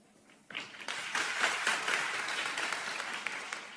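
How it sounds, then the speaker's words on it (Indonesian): Church audience breaks into clapping after a quiet start, the applause swelling quickly into a steady, moderately close round of many hands that holds to the end. "Yang nggak mau tepuk tangan saya tahu karena bukan temennya."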